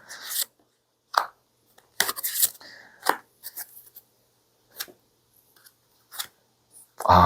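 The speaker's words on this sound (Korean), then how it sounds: "제가 한번 추가 카드를 뽑아 볼게요" Tarot cards are handled and an extra card is drawn from the deck, giving scattered close slides, flicks and taps separated by quiet gaps, with a sharper rustle at the very end.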